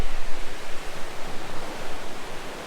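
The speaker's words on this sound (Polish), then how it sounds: "Są spore e, fale, jak widać, ale teraz jest przypływ i tej plaży no praktycznie nie ma." Large ocean waves rolling onto a beach at high tide on an island make a steady, broad, hissing surf roar that fills the whole clip with no voices.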